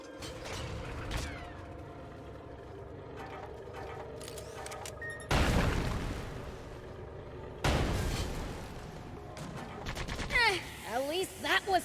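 A tank crashes through obstacles in the video game SandLand, with heavy booming impacts and crunching bursts at a few points over a busy rumbling game soundscape, while people talk throughout.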